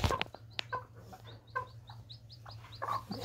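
Hens clucking close by in short, repeated bursts, with a few higher chirps from a chick mixed in, over a low steady hum.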